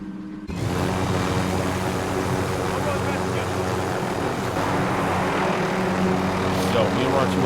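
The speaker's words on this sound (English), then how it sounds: "just get in this helicopter." A helicopter in a video game spools up after half a second into a loud, steady engine-and-rotor drone that holds without a break to the end.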